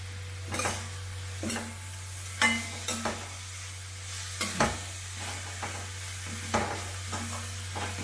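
Raw mango rice, Karnataka-style chitranna, being stirred in a pan: a spoon scrapes and clinks against the pan in irregular strokes over a soft steady hum, close and fairly quiet, with no talking.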